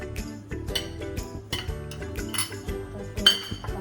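Spices and chili paste being mixed in a bowl, with a spoon clinking and scraping against the dish in quick uneven strokes, close and clear, no voices.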